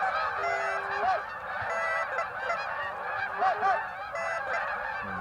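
Large flock of geese honking continuously as they fly over a mid-Michigan hunting spot, many overlapping calls, fairly loud and steady throughout.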